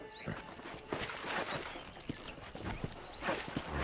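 Steady clip-clop of horse hooves walking in the video game Red Dead Redemption, with rhythmic thuds under a busy outdoor ambience and occasional birdsong.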